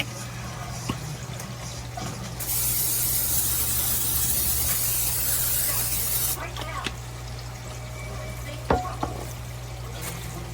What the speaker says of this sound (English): I want to spray it a little bit so it doesn't stick.